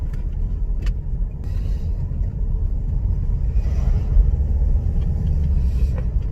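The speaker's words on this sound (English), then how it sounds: "It's a massive Range Rover." A large Range Rover passes close by with a loud, steady low engine rumble and road roar throughout, with no voices.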